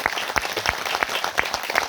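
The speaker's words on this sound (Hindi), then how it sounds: "जोर से ताली बजा के देखो" A church congregation at a Christian gathering in Miglung claps loudly and steadily, many hands overlapping in a continuous, close burst of applause with no talk over it.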